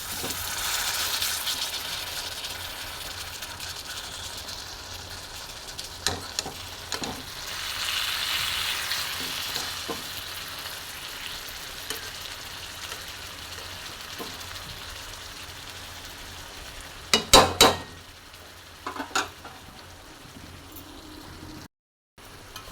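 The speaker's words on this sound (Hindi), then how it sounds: "तो थोड़ा सा भून लेती हूँ।" Food roasting in a pan on a home stove, a soft continuous sizzle with occasional scraping stirs and a few louder clinks of a spoon against the pan toward the end.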